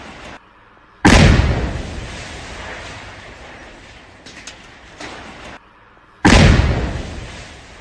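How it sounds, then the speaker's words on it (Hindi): Two sudden loud explosive blasts demolishing a house boom out a few seconds apart, each followed by a long rumbling, crackling decay; no voices. "तो एक तरफ वो घर जिसमें धमाका हो रहा है"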